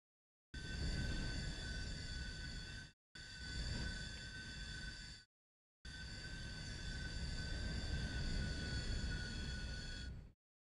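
Train cars in a railroading video game squeal loudly and continuously through a corner, a high sustained metallic screech with rumbling wheels beneath, broken by two short gaps of silence.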